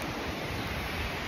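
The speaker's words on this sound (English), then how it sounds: "There's a big waterfall." Constant dense roar of a big waterfall near a river in Dolly Sods, West Virginia, a heavy rushing wash heard close and steady with no voices.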